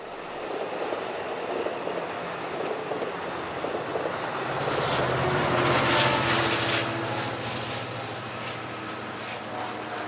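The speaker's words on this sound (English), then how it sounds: "We caught a few trains passing along the Pacific Ocean on a clear August 10, 2015." A train passing along the Pacific Ocean coast rumbles past with a steady low drone that swells midway, joined by brighter rattling and faint wheel clatter.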